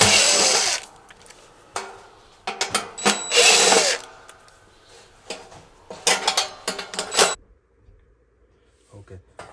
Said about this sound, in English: We'll take these screws out.